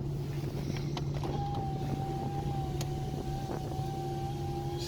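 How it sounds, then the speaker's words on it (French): A Nissan Skyline R32 creeps along at about 12 km/h, its engine a steady low drone with a thin whine running over it. "C'est très agréable de rouler à 12 km/h avec cette voiture."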